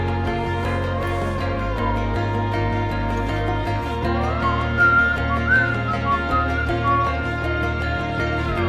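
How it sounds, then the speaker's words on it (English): A person whistles a melody over the steady music of the Outer Wilds soundtrack, the whistled line riding above sustained tones and gentle harmony, with no talking. "Let's see if we can whistle along with the actual song here."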